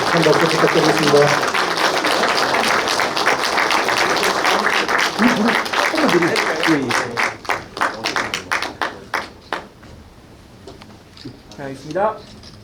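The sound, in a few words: audience applause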